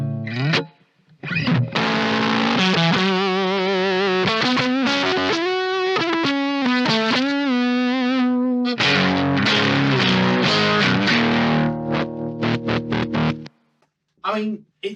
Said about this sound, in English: The combination of a Strat and a Guz fuzz is pretty much all you might need for everything up to kind of classic rock.